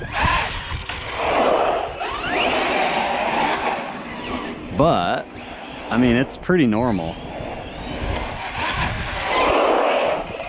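Arrma Big Rock 6S RC monster truck, upgraded, driving with its electric motor whining and rising in pitch in short bursts, moderately loud under someone talking throughout.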